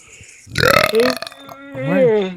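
A person lets out a loud, drawn-out burp close to the microphone, rough and gurgling, followed by a voiced tail that rises and falls.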